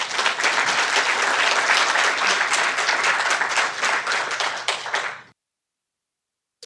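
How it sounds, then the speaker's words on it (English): Dense audience applause at an evening event with Congressman Donald Norcross at Rowan, many hands clapping steadily and loudly for about five seconds before cutting off abruptly into silence. "So that deserves a round of applause"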